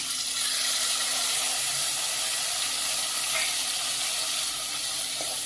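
Pureed tomato, four medium tomatoes' worth, sautéing in oil with softened onion and garlic for a brinjal curry, giving a steady loud sizzling hiss that carries on evenly without a break.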